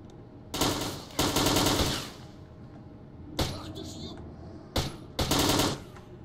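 Kalashnikov rifle fire in the shooter S.T.A.L.K.E.R. Narodnaya Solyanka, several loud, close automatic bursts of rapid shots separated by short pauses, with someone talking in between.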